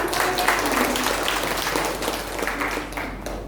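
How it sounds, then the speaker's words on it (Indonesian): An audience at a church marriage enrichment session claps throughout, a dense sustained round of hand claps heard up close with a steady hum underneath, fading slightly near the end. "tepuk tangan untuk Bapak Ibu"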